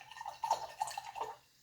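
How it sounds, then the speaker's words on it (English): Soft watery swishing and dripping as a paintbrush is swirled in a small cup of water during watercolor painting, close and quiet with no talking. "Rinse out my brush."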